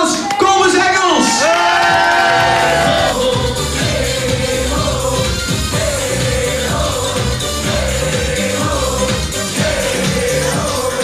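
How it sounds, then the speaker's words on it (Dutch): A lively crowd cheers, whoops and yells loudly and steadily throughout, with raised voices mixing into a dense, continuous roar. "Geef een heel groot applaus."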